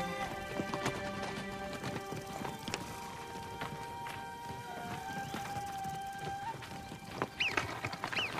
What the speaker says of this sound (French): Kado, réunis les chevaux.